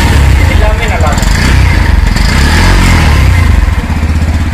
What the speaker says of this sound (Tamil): ஸ்டார்ட் பண்ணால் இன்ஜின் நாய்ஸ்மே வந்து நல்லாயிருக்கு.